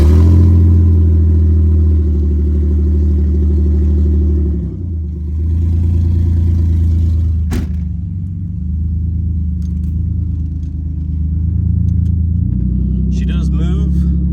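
Drift car engine running loud and close with a heavy low rumble, the pitch easing and rising again as the revs change, a brief sharp click near the middle.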